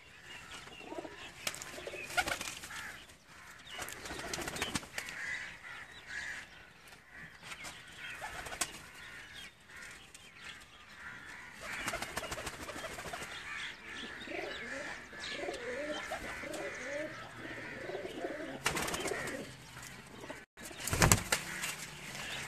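Pigeons coo softly and repeatedly close by in a pigeon keeper's loft, with occasional wing flaps and chirps against a steady background hum.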